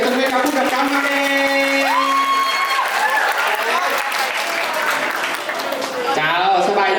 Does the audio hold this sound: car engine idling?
no